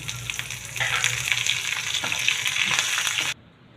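Steady loud sizzling and crackling of leaves dropped into hot oil, with occasional stirring, then it cuts off abruptly near the end.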